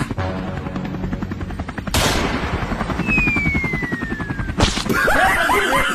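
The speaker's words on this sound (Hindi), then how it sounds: "अबे मुझ में नहीं, हेलीकॉप्टर में गोली मारनी थी।" Rapid automatic gunfire in a video game aimed at a helicopter, loud bursts of shots with a whooshing sweep and sharp transients, helicopter rotor noise underneath.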